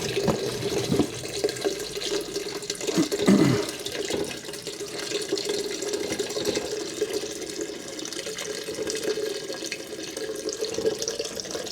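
Melted wax streams from a Presto pot into a pouring pitcher, a continuous gurgling trickle that swells briefly early on, steady and close throughout.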